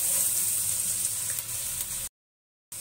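Finely chopped garlic frying in a pan for a dhaba-style dal tadka, giving a steady, close sizzle and hiss that cuts off abruptly into brief silence before resuming.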